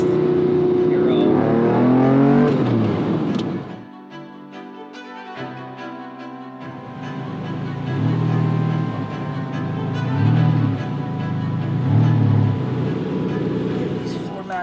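Lamborghini Diablo SE30 V12 fitted with a non-stock aftermarket exhaust, a loud, close engine drone that dips briefly then rises again in repeated revving swells.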